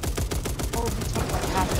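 Gunfire in the Back 4 Blood zombie video game, a rapid, steady stream of shots in a short burst lasting under two seconds, heard close and loud with some voices underneath.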